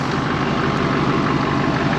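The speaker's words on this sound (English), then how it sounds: "the turbo sound is just way better" LBZ Duramax diesel truck with a 5-inch exhaust to a bed stack: a steady, loud, low engine drone with a rhythmic pulsing and turbo whine over it, and no voices.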